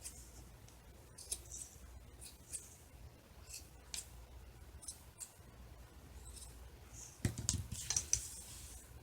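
Snipping of scissors trimming the mesh of a coastal wreath, a series of faint, crisp cuts spread through a quiet room, ending with a couple of firmer snips and rustling.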